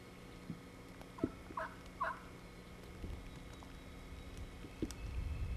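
A wild turkey longbeard gobbler approaching decoys, with a few faint, distant gobbles and soft calls breaking through quiet outdoor background noise.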